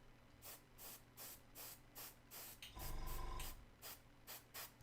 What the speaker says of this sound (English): So I'm just going to do a little bit of a very light spray.